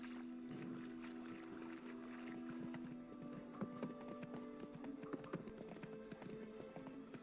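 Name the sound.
horse hooves clip-clopping in The Witcher 3 video game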